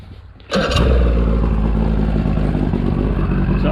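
A bass boat motor cranks and catches after a short quiet moment, then settles into a loud, steady idle close by.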